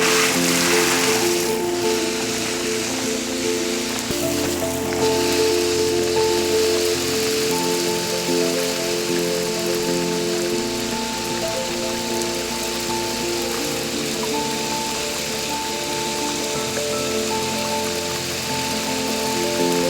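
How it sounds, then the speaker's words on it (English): A garden hose sprays water over outdoor rock-shaped waterproof speakers, a steady hissing splatter of water throughout while the speakers play a sustained musical tone underneath. "I'm gonna go ahead and use a hose and hose these things down"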